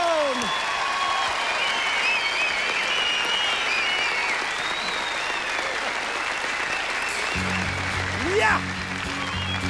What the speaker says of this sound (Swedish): Stor applåd för Cecilia Karlsson som Dolly Parton!